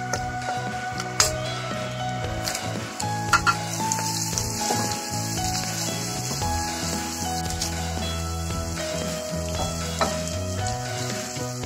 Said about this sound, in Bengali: পেঁয়াজটা আমি হালকা ভেজে নিচ্ছি, এর মধ্যে রসুন বাটা এক চামচের মতো, এক চামচের মতো আদা বাটা